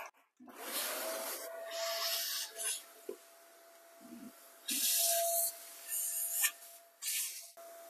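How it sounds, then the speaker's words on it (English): Water sprayed from a hand spray bottle onto a window to soften stuck dirt: several short hissing bursts, fairly close, with a faint steady tone running underneath. "And you can spray water any area you want. So you can soft the dirt a little bit"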